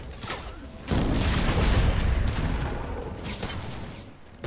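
Rapid gunfire bursts and booms from a food fight video game, a loud continuous volley of shots across most of the clip, with a brief voice near the start.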